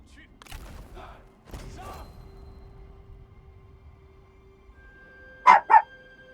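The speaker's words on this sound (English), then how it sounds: "I am dog sitting, so if you hear a little dog in the background," A small chihuahua gives two quick, sharp barks near the end, louder than the faint thumps and quiet background before them.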